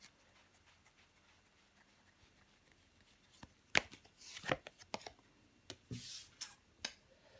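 Tarot cards are laid down over a drawn card, giving soft, close slaps and brushing swishes of card on card. These are scattered and faint at first, then a few sharper snaps cluster near the end, with no talking.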